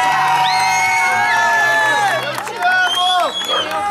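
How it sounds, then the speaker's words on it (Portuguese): Party guests cheer for a birthday guest of honour named Juliana in Vila Maria, São Paulo, with loud overlapping whoops, shouts and excited voices filling the space continuously, clapping mixed into the crowd noise. "Uma salva de palmas para a nossa homenageada do dia."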